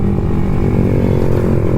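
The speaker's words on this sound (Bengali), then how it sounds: "3টে বাইকে আজকে পুরো এক্সজস্ট লাগানো রয়েছে" A motorcycle fitted with an aftermarket exhaust revs steadily and loudly at close range for the whole stretch, with a deep droning engine note and no talking.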